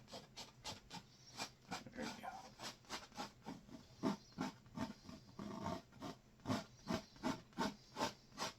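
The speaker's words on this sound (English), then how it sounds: "Kind of scrape some of this excess paint off." A tool scrapes excess paint off a canvas in quick rhythmic strokes, about twenty faint raspy scrapes evenly spaced and close by, with no talk during them.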